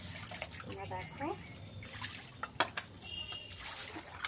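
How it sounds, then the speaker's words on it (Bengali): Fish are washed outdoors under a tree, with soft, close splashes and trickles of water coming in short irregular bursts while a voice is faintly present. "আমি এবার মাছগুলো ধুচ্ছি, ঠিক আছে?"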